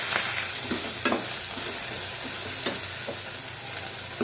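Onion, green chili and garlic fry in a pan for a fish curry, giving a loud, steady sizzle with occasional scraping stirs close by, and no voices.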